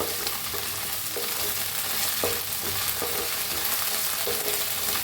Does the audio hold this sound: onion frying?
yes